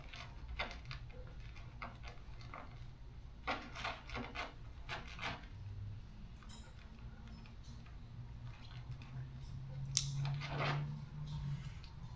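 Close, quiet scraping and snipping while a marked section of a Singular Motorsports hood louver is cut and folded on an NC Miata, irregular short rubs and clicks in a hushed room.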